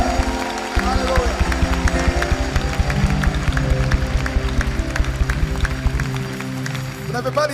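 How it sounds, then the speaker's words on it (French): A congregation at a Christian healing and deliverance prayer crusade claps steadily in rhythm over music, the beats evenly spaced and loud, while a voice sings or speaks above them throughout. "Applaudissez pour le Seigneur."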